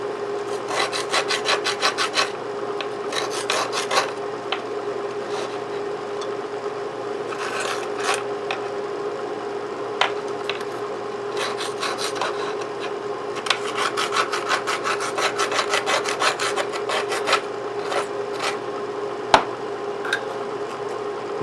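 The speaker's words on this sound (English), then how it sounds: "I'm going to take a little scraper and try and help things a bit" A small hand scraper rasps over corroded steel on a rusty tool in repeated bursts of short strokes, some quick runs of scrapes and single scratches, close by over a steady low hum, with no talking.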